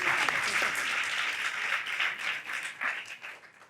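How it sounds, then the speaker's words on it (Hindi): An audience at a live talk show applauds for an uncle, a dense burst of clapping that holds steady and then thins out toward the end. "अंकल जी के लिए तालियां बजाएं"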